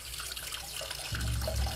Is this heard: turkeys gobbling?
no